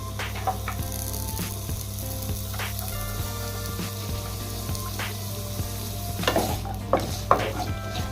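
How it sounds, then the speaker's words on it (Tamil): Pirandai frying in groundnut oil gives a steady close sizzle, with stirring scrapes and clinks from the pan breaking through now and then. "இப்போ இதை எண்ணெயில் போட்டு நம்ம வதக்க போகிறோம்."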